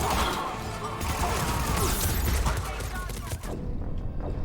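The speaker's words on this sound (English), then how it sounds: "there was another turret shooting at me" A turret fires in the sci-fi shooter Mass Effect 3, with dense, continuous bursts of gunfire and crashing impacts filling the mix and game noise underneath.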